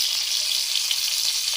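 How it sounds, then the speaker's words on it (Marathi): Chicken liver (kaleji) fries in a ground masala paste over an outdoor fire in a forest, a dense, bright, continuous sizzle that stays even and close throughout. "कलेजी फ्राय करताय"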